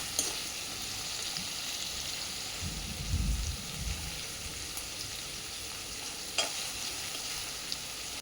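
Ground onion paste sautés in a pan until pink, a soft steady sizzle with a brief scraping stir in the middle and occasional small clicks.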